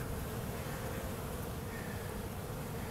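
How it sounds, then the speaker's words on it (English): Honeybees swarm at the entrance of an overwintered five-frame nuc hive, bringing in pollen, with a dense, continuous close buzz and no speech. "as you can see, the bees are bringing in pollen"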